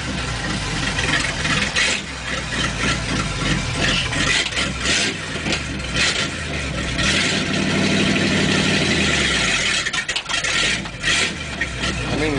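A Dodge car engine running at idle after starting, a little rough when cold, a steady close rumble that rises briefly in the middle as if revved, with no talking over it.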